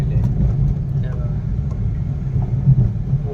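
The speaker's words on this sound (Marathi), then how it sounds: "मुंबईला येणाऱ्या गाड्या बघा गर्दी" Heavy road traffic on the old Mumbai-Pune highway near Khopoli gives a continuous low rumble of passing vehicles, loud and close throughout.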